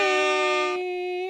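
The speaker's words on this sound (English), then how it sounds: "Air horns for you." An air horn sound effect blasts as one loud, sustained tonal honk, strong and close, fading slightly near the end with no talking over it.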